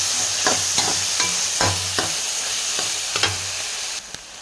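Tomatoes with salt are stirred in a frying pan, a continuous loud sizzle punctuated by a regular series of spatula scrapes and taps against the pan, about one every half second.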